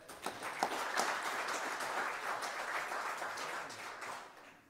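Applause from a church congregation for a gospel singing group at a Monday night service, a steady wash of many hands clapping at moderate distance, sustained throughout and tapering slightly at the end.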